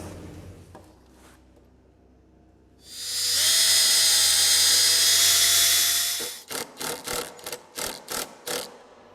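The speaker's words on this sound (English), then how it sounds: "that's where we drill our 18 to 20 millimeter hole that receives the screw of our vise" A high-pitched power drill whines steadily for a few seconds boring an 18 to 20 millimeter hole in a wooden workbench, then stops, followed by a series of short rhythmic bursts as it pulses.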